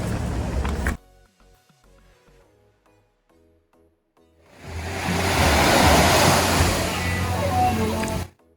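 Ocean surf washes loudly onto a beach in two close bursts of rushing noise, separated by a quieter stretch of several seconds.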